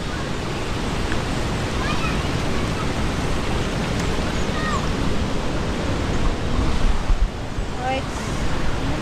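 Aliwagwag Falls in Cateel, Davao Oriental, sends up a dense, continuous roar of rushing water. The sound is loud and steady from start to end, with faint voices now and then in the background.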